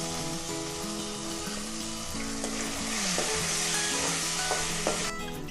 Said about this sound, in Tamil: தக்காளி சேர்த்து நல்லா கிண்டி விடுங்க